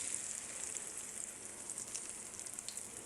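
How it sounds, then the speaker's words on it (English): Quiet, steady sizzling and crackling of chicken frying in hot grease, a soft continuous hiss with small pops throughout. "We're just going to drop them down in, get them to frying"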